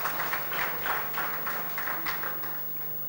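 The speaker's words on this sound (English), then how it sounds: "Let's have a warm round of applause once again" A convention audience gives a round of applause, a faint, steady mass of clapping with a soft, regular pulse, heard from a distance over a low electrical hum.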